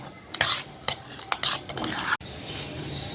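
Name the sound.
stirring idada (white dhokla) batter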